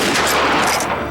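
Rapid gunfire from Henry repeating rifles fills the whole stretch, a dense, loud fusillade of overlapping shots with no gaps and no voices.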